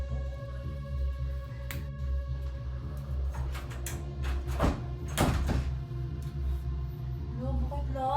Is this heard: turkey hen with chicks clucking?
no